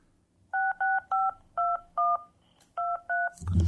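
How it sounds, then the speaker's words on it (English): Touch-tone telephone dialing of a number: eight clear, evenly spaced beeps in a brisk rhythm, close and loud over a quiet background, ending in a short rustle. "I'm dialing a random number."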